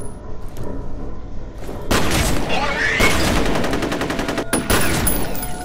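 Dense bursts of rapid automatic gunfire and booming shots from the first-person shooter video game F.E.A.R., loud and close, in several sustained volleys separated by brief gaps.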